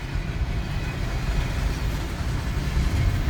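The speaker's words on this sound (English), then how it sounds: "Oh, those are the train, huh?" A train passes a railroad crossing in Tullahoma, Tennessee with a continuous low rumble and rolling rail noise at moderate distance, holding steady without pause.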